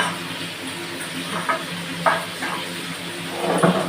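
Food sizzles and crackles in a hot pan, with a few soft scraping stirs and light clinks over the steady frying hiss.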